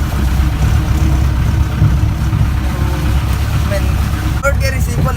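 An old Mahindra jeep's engine runs steadily in second gear, a loud, continuous low rumble close by that holds even throughout, with a brief higher whine near the end.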